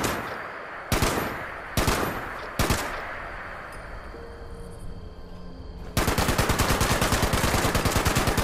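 Gunfire in Fallout 76 while using prototype X01 power armor: a few separate loud shots with ringing tails, then a sustained rapid automatic burst firing steadily to the end, no talk.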